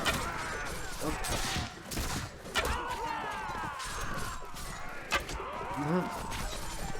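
Volleys of musket and gunfire crack through a battle in Mount & Blade: With Fire and Sword, with sharp shots at irregular intervals over dense, continuous battlefield noise and clamor.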